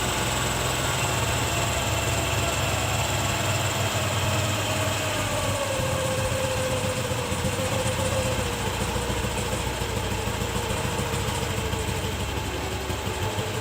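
A scooter engine idles steadily at low RPM while its carburetor idle and air-fuel mixture screws are adjusted, a continuous near drone with a faint rising whine and no talking.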